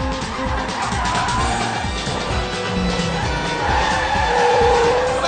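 Car driven fast with tires skidding, a continuous roar of engine and squealing rubber filling the whole stretch, loud and close, with no clear talk.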